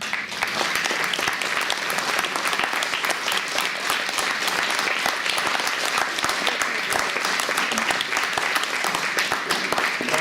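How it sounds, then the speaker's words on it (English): Luncheon crowd at an Older Americans Month kickoff applauding veterans, loud, dense and sustained clapping from many people close by throughout. "stand up for a round of applause for so many who are serving here"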